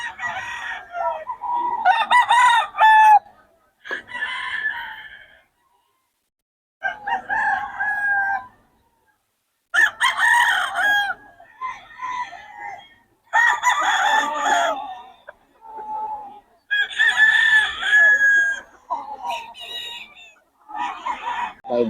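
Gamefowl roosters on a farm, crowing loudly and repeatedly in close, separate bursts with some clucking between them, and no voices.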